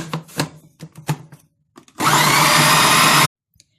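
Several soft knocks as ingredients go in, then a loud burst of roughly one second as a food processor briefly chops a chicken kofta mixture with parsley, whirring at full power before stopping abruptly.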